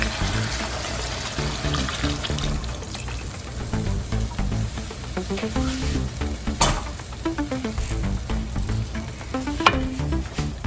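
Pork blood is stirred into simmering dinuguan in a pan, giving a continuous close sizzle with stirring scrapes and a wet, bubbling texture over faint background music.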